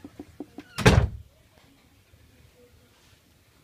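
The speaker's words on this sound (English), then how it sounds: "Did you just slam the door?" A door slams shut with one loud, close bang that rings out briefly, followed by near quiet with faint room noise.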